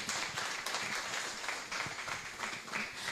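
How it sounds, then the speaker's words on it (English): Audience at a career fair claps together in a brief, fairly faint burst of dense applause, steady for a few seconds. "Clapping is a therapy, remember?"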